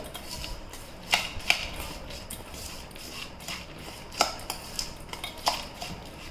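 Instant dosa batter gets stirred with a metal spoon in a bowl, giving close, crisp clinks and scrapes at irregular intervals over a soft background, with no voices.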